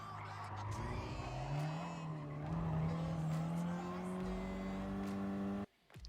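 Race car in the GT Sport video game cutting a right-hand corner at Weather Tech Raceway, then accelerating out; a steady rising engine note with tire squeal runs loud and continuous before cutting off near the end.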